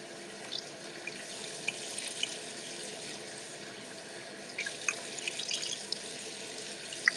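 Tap water runs steadily into a sink while a cotton pad is rinsed during a night skincare routine, a soft constant stream with a few faint splashes and drips, fairly quiet and with no voice.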